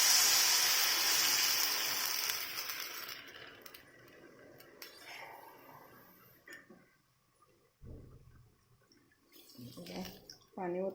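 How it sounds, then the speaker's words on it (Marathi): A stream of water pours in a rush for a few seconds, then fades into scattered clinks and a voice talking. "पाणी ओतणार आहे"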